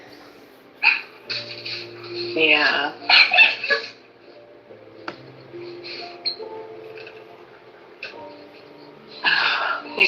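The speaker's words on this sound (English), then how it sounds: "These dogs are losing their minds." Several dogs bark, yip and whimper indoors in excited bursts, loud and close, with a person speaking briefly between them.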